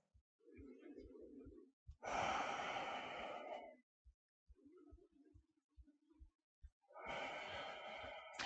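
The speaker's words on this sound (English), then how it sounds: "And take some breaths." Slow, deep breathing in a standing yoga pose, with long breathy inhales and strong exhales heard close in two or three cycles, separated by quieter pauses.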